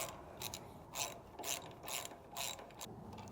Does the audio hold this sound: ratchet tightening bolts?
yes